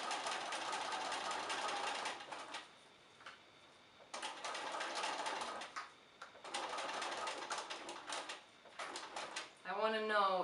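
Sewing machine stitching a towel apron in bursts of steady mechanical whirring, pausing between runs, close and fairly loud, with a brief voice near the end.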